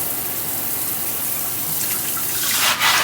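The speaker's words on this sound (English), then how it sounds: "I'm going to give it a good little rinse" Steady rush of tap water running over a plant pot being rinsed, continuous broadband splashing that swells slightly louder near the end, no talking.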